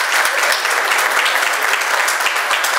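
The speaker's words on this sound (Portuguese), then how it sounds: "palmas para o Rogério Duran, nosso poeta convidado aqui da Vila" Steady, dense clapping from an audience at a poetry reading, continuous and fairly loud for the full stretch with no pauses.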